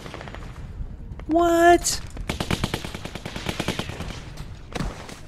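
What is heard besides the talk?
machine gun fire in the video game The Walking Dead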